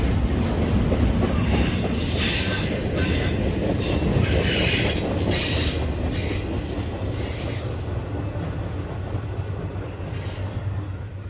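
A long Union Pacific freight train with a GE Evolution locomotive mid-train rolls past steadily, wheels squealing and rails clacking in a continuous loud rumble that slowly eases as the cars keep going by.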